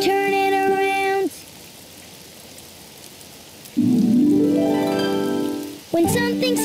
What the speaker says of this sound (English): Oh, it's raining outside.